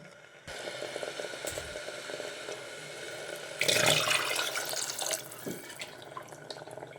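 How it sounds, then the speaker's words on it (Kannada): Water streams from a tap into a rinsed blender jar while sambar is being made, a steady close splashing that swells louder midway, then fades to drips and light rattles, with no talk. "ಜಾರು ತೊಳೆದ್ಬಿಟ್ಟು ಹಾಕ್ಕೊಳ್ಳೋಣ ಅದರಲ್ಲೇ ನೀರು."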